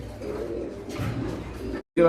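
Pigeons coo in low, throaty bursts at a pigeon farm, close and fairly soft, repeating with a brief pause before a final coo.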